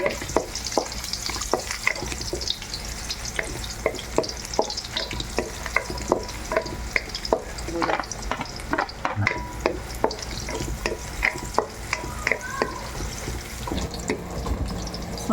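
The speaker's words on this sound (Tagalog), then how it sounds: "Dahil mainit na ang kawali, mag-a-add na ako ng mantika. So, unahin natin ang bawang." Garlic sautéing in hot oil in a pan for a chicken dish, a soft steady sizzle broken by frequent sharp scrapes and clinks of a spatula stirring, with no talking.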